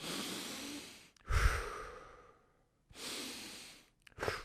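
Wim Hof method breathing: deep, forceful breaths drawn in through the nose and pushed out through the mouth, close and audible, two long cycles with short pauses between.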